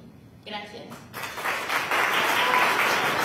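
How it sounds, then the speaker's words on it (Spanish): Audience applause at a school anniversary ceremony in an indoor hall, starting faintly and then rising into a full, steady wash of clapping that carries on to the end. "Los aplausos para Desiree Valentina"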